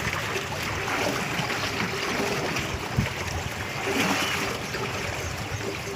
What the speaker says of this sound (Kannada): ಈ ಹರಿಯುವ ನೀರು